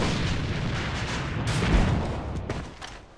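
A grenade blast in the shooter game AVA during a competitive match: one muffled boom swells near the middle, set amid a steady rumble of game noise, followed by a few sharper crackles.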